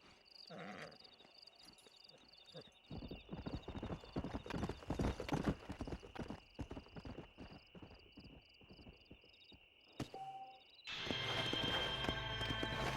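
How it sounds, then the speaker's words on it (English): Horse in the Red Dead Redemption game, with steady clip-clop of hooves and snorts, a high whinny near the start and louder galloping, then a burst of wind and rushing noise at the end. "We got some fine horses."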